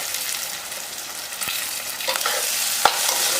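Frying in a pan for bankonti curry, a steady soft sizzle with a few brief stirring scrapes and clicks, close and moderately quiet, with no talking.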